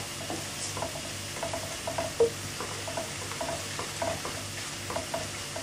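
Hyderabadi potato 65 mixture sizzles in a pan while being stirred, with a steady frying hiss and light scraping strokes from a spoon, close and moderately loud.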